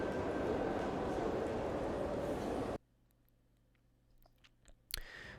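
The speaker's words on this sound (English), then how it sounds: "Large Holland subway station." Ambience of a large subway station in Paris: a dense, steady roar of crowd and hall noise for about three seconds, then an abrupt drop to a quiet space with sparse distant clicks and a short burst near the end.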